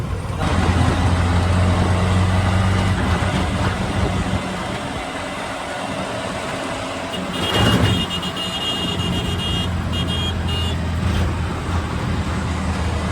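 Auto-rickshaw ride through traffic in Satara, with a steady engine drone and road noise throughout and a brief louder pass near the end, without talk.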